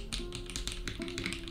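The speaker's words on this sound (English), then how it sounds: "Ooh, I love this muffled sound of keyboards" Quick, muffled key taps on an F97 mechanical keyboard, a short, close run of soft clicks with no talking.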